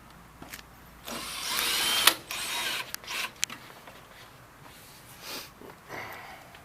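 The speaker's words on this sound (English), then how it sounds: "get your bracket, put it back here, and then you're going to screw it back" Screw being driven with a power screwdriver to refasten a bracket on a PianoDisc player piano system, with a few short whirring bursts and clicks close by amid quieter handling noises.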